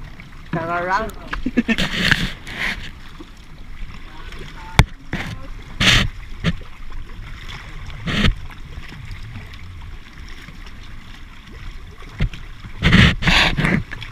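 Wooden paddle strokes from a small fishing boat out netting on open water, with intermittent splashes and sloshing spread through the stretch while someone talks over them.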